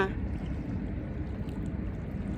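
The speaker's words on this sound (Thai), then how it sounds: "มีคลื่นทะเลเพราะว่าเรือมันวิ่งผ่านค่ะ" Sea waves churned up by a passing boat wash and slosh continuously near the shore on a clear day, a dense, steady low rumble of water without voices.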